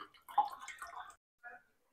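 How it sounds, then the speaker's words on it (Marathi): Water splashes and trickles out of a freshly cracked coconut into a container, a short close wet pour that stops, then a brief second dribble. "आता हे आपण पाणी काढून घेऊ त्याच्यातलं आणि त्याची मलई काढून घेऊ."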